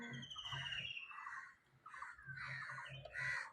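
Several crows caw repeatedly near a fig tree in a rural Bengali village, harsh calls coming in bursts close by, with other birds chirping faintly in the background.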